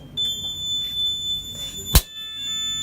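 A smoke detector in a fire-extinguishing system goes off after a test spray, giving a steady high electronic tone with a sharp click near the end.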